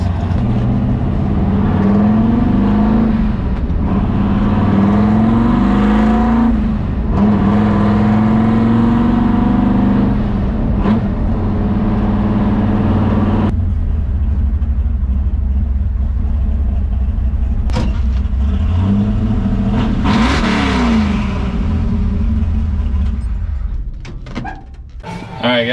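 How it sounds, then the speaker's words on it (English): A Ford F100 truck engine with an oil leak idles steadily and revs up loudly several times, close and continuous, with a voice talking over it. "Perfect glass smooth idle, revs good, it's fast."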